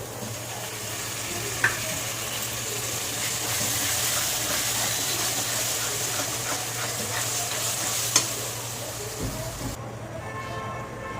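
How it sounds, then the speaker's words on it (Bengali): Spice masala being stirred and fried in a pan, with yogurt being added to the mix: a steady close sizzle runs throughout, with a couple of sharp clinks from the spoon and quiet scraping. "খুব ভালো করে মশলাটা কষিয়ে নেব।"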